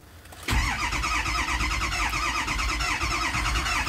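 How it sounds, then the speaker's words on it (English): A 2003 Ford 6.0 Powerstroke diesel cranks on its starter: after a brief lull, a loud, steady, rhythmic churning starts abruptly and continues close up without catching. "So let's crank it. This takes a while. You're going to have to let the starter cool."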